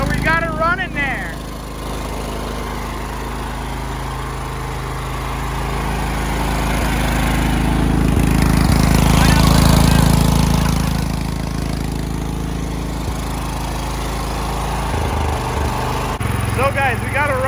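A small engine runs steadily after being started, a loud, continuous close drone that swells slightly in the middle, with brief voices near the start and end.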